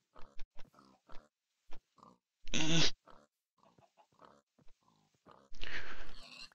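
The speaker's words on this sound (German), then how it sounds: "Noch ein Schwein, wieder ein Buschschwein" Short grunts and snorts from a bush pig in modded Minecraft, interrupted by two loud rough squeals; scattered quiet noises fill the gaps.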